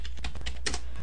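Several quick keystrokes on a computer keyboard, close and fairly clear, clicking in a short irregular burst.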